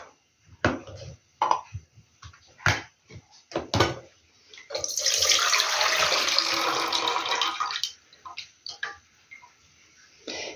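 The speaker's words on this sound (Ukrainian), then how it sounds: "Пройшло 10 хвилин і буду зливати воду." A rush of water poured off jars of marinating zucchini runs for about three seconds, bracketed by scattered knocks and clinks of glass and metal on either side.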